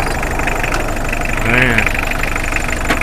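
A 1997 car engine idles with a steady, even rumble, and a voice briefly rises over it midway.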